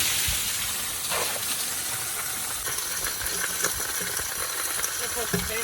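Water sizzling and boiling on the hot oil pan of a grenaded 1979 Ford engine after pouring down through the valve cover, a steady close hiss with faint clinks.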